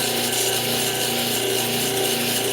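A cabbing machine grinds a turquoise and malachite stone on a 3,000 grit wheel, a steady close whirring hum with a faint rubbing hiss, with no voices.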